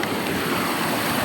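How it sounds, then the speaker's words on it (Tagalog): Strong river current rushing over a deep swimming spot, a loud, dense, continuous roar of flowing water with wind noise, no voices. "Ang lakas ng agos."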